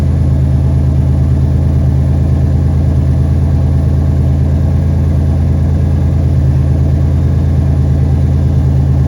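A 1991 Buick engine idles steadily and loudly up close after a fuel filter repair, a constant low rumble with no voices.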